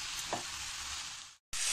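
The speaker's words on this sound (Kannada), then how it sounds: "ಇದೊಂದು 5 ನಿಮಿಷ ಎಣ್ಣೆಯಲ್ಲಿ ಫ್ರೈ ಆಗಲಿ ಫ್ರೆಂಡ್ಸ್." Chopped ridge gourd fries in oil for chutney, giving a steady close hiss and sizzle with one brief clink, then a short dropout before the sizzle resumes.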